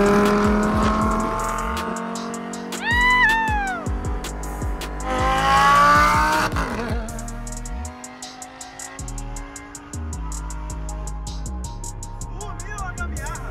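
A Lamborghini's engine, mounted just behind the seats, revs and accelerates in loud rising surges heard from inside the car, with people talking and exclaiming between the pulls.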